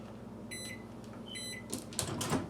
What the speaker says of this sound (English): you set your microwave for time defrost